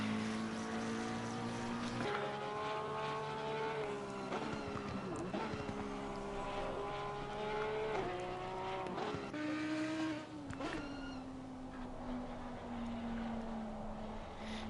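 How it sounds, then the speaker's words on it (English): Race cars lap the Nürburgring circuit in the Assetto Corsa Competizione sim, engines droning steadily with rising and falling pitch as they shift and brake through corners, loud and continuous throughout. "As Ripper goes into the final corner, and he'll start his final lap here at the Nürburgring."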